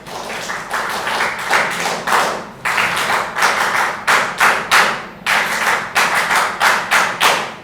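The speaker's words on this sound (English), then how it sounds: "Yes, you can give your applause." An audience claps for the NSS team as they stand at a youth disaster risk management and climate change event, a steady group clapping that swells and fades in repeated short bursts, close and fairly loud.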